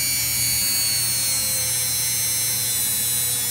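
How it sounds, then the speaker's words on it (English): A rotary tool polishes a 2-stroke engine port with compound on an 80cc motorized bike build, making a steady, close, high electric whine that holds constant without a break. "So, now we're going to do some polishing."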